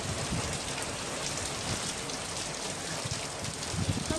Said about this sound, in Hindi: देवघर में भी गरज चमक के बीच झमाझम बारिश हो रही है